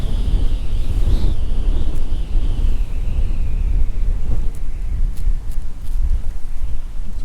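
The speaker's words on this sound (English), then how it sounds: "Windy today, and it's supposed to be even windier tomorrow." Wind buffets the microphone out on the water during kayak fishing, a constant low rumbling roar with no voices.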